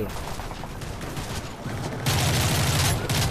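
Sustained gunfire in the video game Call of Duty: Modern Warfare 3, a dense rattling burst that grows louder and heavier partway through over continuous battle noise.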